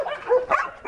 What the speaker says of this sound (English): Now we're seeing more of the big dogs. They're kind of noisy because we're strangers.